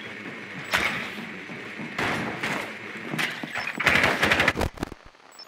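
Bursts of suppressing gunfire in Rainbow Six Siege, fired at a Blitz, crackle in several loud volleys, with rapid automatic shots bunched toward the end and short pauses between.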